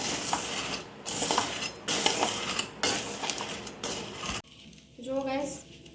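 Gothli seeds being mixed with desi ghee in a pan, with rhythmic metallic scraping and clinking of a spoon against the pan in several bursts, then a quieter stretch with a voice speaking.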